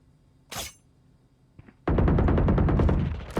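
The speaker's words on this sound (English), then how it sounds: "he switches to a Vandal" Vandal rifle fire in the Valorant shooter game: a lone sharp crack early, a faint tap, then a dense, loud stream of rapid shots lasting over a second and a half, ending with one more burst.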